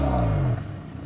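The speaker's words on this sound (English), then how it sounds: "I am driving an all-wheel drive Ford Fusion that is the top-of-the-line titanium model" A 2013 all-wheel drive Ford Fusion Titanium with a 6-speed transmission gives a brief, rising engine rev that cuts off abruptly into a quieter rumble.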